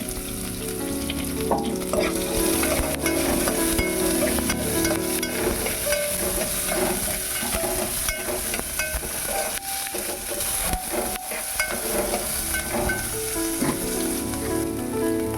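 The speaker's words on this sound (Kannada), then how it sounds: "ಈರುಳ್ಳಿ ಎಣ್ಣೆಯಲ್ಲಿ ಸ್ವಲ್ಪ ಕೆಂಪಗೆ ಬೇಯ್ತಾ ಇದೆ." Chopped onions, added after green chilies, frying in hot oil for beetroot palya, a dense, loud, continuous crackling sizzle that holds steady throughout with faint stirring scrapes underneath.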